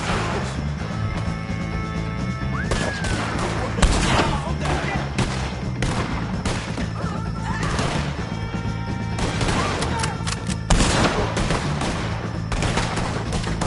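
Rapid gunfire against O'Driscoll gang members in Red Dead Redemption 2, with repeated shots and sharp crashes over a busy, loud backdrop and a steady musical drone, plus heavier blasts near the four- and eleven-second marks.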